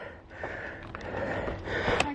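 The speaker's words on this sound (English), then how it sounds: "YouTube's gonna get real sick of my heavy breathing." Heavy breathing from a hiker climbing uphill on a mountain trail, close and fairly soft, with rough gasping breaths repeating over a short stretch.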